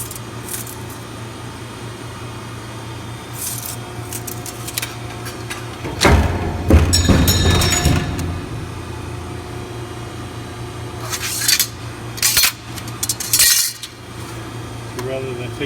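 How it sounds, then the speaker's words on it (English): Machine saw cutting aluminum dock pieces to length in a workshop: a loud burst of cutting noise for a couple of seconds, then quieter clatter and scattered metallic clanks over a steady low machine hum. "It's just way easier to cut it with this machine here."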